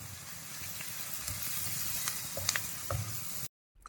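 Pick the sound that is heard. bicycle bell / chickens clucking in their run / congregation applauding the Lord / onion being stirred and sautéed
onion being stirred and sautéed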